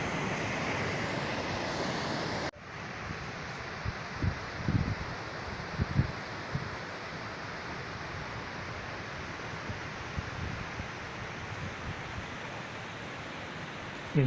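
Several waterfall cascades meet at a confluence on a mountain trek in Italy, giving a steady, broad rush of falling water heard from a distance with no voices, with a soft shift in tone after a couple of seconds.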